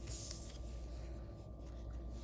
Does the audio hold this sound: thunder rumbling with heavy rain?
no